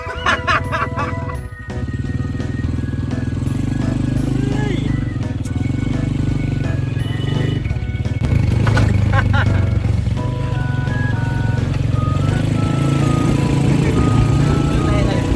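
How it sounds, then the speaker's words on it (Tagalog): A motorized tricycle engine runs steadily throughout a ride in the Philippines, a continuous close rumble with voices talking over it. "Natuwa sa tricycle eh."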